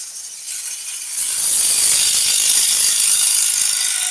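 A skew chisel cuts a sassafras bowl on a lathe, a hissing, scraping shave that starts softly and swells within a second into a steady, close, continuous cutting noise.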